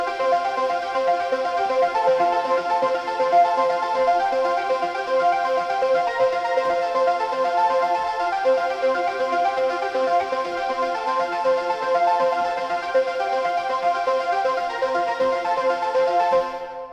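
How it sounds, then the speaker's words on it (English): Dreamy arpeggiated synth patch built in Serum 2, bright layered notes repeating in a smooth continuous pattern at steady loudness, playing alone. "This week I wanted to show you guys how I made a cool ARP sound"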